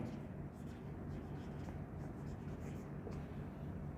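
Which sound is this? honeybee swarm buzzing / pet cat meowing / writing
writing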